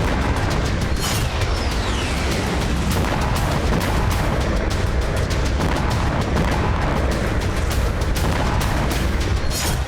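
Russian army bombardment in Ukraine pounds loud and close in rapid, overlapping booms and cracks, a dense, unbroken barrage of explosions and gunfire with no voices.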